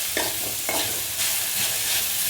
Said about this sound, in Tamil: இப்போ கொஞ்சம் நேரம் நல்லா அப்படியே வதங்கட்டும்